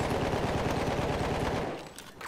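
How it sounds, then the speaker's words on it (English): Rapid SMG fire in the video game Battlefield 1 rattles loud and continuous for about two seconds, then trails off into quieter battlefield noise. "This SMG is pretty nice."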